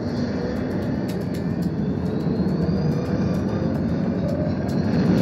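A spaceship blasts off in a video game with a loud, sustained roaring rumble like a jet engine, steady and powerful throughout, with faint high whine and no voices.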